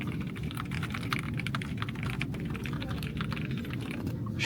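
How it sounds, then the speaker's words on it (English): Typing on a low-profile mechanical keyboard with linear switches at an office desk, a steady run of soft, fast keystrokes heard up close with no talking. "feels super nice to type on,"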